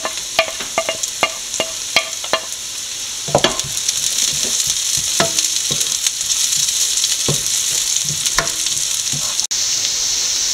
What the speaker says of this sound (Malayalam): ആ സവോള പകുതിയോളം വഴന്ന് വന്നിട്ടുണ്ട്. അരിഞ്ഞു വെച്ച വെളുത്തുള്ളി ഇട്ട് കൊടുക്കാം.